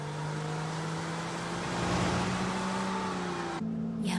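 A Porsche drives steadily with a droning, even engine note and road noise, cruising at constant speed before the tone shifts slightly near the end.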